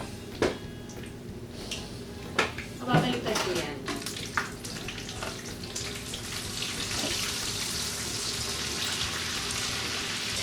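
Crab omelette sizzling and frying in oil in a pan, with scrapes and clatters of a spatula as it is flipped, then a steady close frying hiss.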